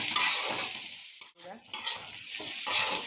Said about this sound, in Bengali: নুন দিয়ে ভালো করে এটা ভেজে নেব।